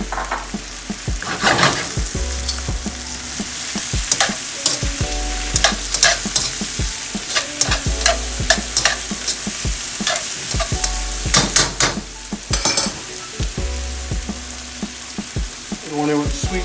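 Scallions stir-frying in a hot pan for sweet and sour chicken: a loud, continuous sizzle broken by repeated clattering stirs and scrapes, with no talking.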